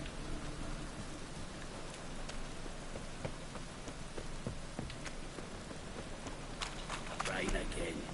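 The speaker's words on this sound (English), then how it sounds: "Rain again." Rain falling in The Witcher 3 video game makes a dense, steady patter of drops on surfaces, with scattered sharper taps and a slight swell near the end.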